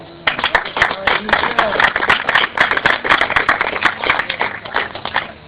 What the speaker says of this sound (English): give a round of applause for Yusef Shakur